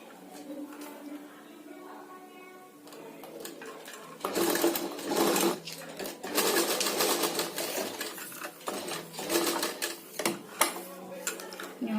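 A sewing machine stitches fabric for a handmade tassel, its running bursts loud and close in the second half after a quieter start.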